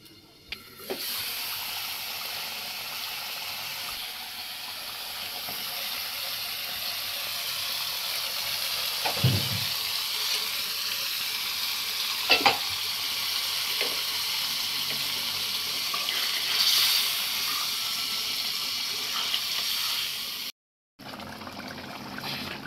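Ingredients frying for a snakehead fish curry with potatoes in a pot, a steady watery sizzle and trickling hiss running for a long stretch with a few knocks, close, briefly cutting out near the end.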